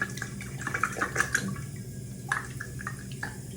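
Water draining from an RCA washing machine during a six-month review, a continuous close wash of running and dripping water with small splashes and gurgles, with no voices.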